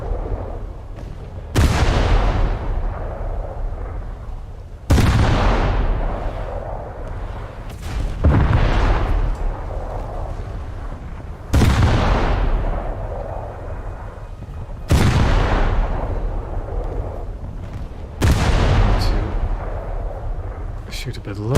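Warship guns in a naval combat game fire in six heavy booming salvos at steady intervals of about three seconds, each blast rolling off into a long rumbling decay.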